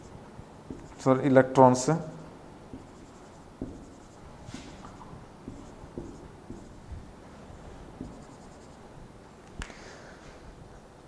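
A semiconductor diagram is drawn on a board, producing faint, scattered scratchy strokes and light taps spread over several seconds, with a brief burst of speech near the start.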